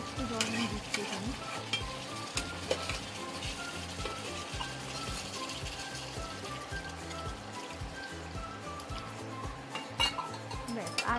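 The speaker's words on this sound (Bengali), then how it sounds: "আরেকটু জল আমি দিচ্ছি এখানে" Large potato chunks for dum aloo sizzle in a pan as more water goes in, a dense, busy frying hiss near the listener with steady stirring scrapes and occasional clinks of metal utensils.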